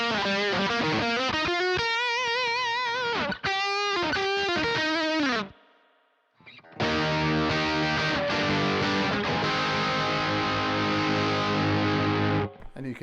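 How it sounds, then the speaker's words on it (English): An electric guitar runs through a Boss ME-90 multi-effects unit, its distortion swept by the expression pedal: fast melodic lead phrases, a short near-silent gap, then heavier sustained distorted chords ringing loudly with no talking. "So you can kind of control how much distortion you have"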